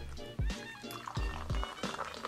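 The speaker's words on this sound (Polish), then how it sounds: "I lejemy lekko mętny napój." A cloudy, lightly carbonated natural energy drink is poured into a small glass, a close gurgling trickle with a few splashy bursts.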